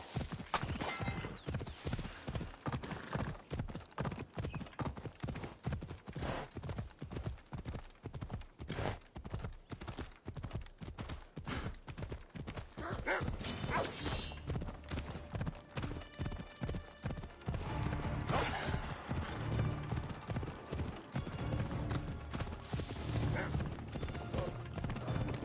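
Horse hooves clip-clop in a steady, brisk rhythm while riding in Assassin's Creed Odyssey, close and continuous for about twenty-five seconds, with a short whinny and soft game ambience beneath.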